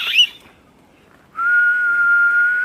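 A person whistles on a jungle forest hike: a short breathy burst at the start, then a steady, clear, sustained whistled tone held for over a second, loud and close.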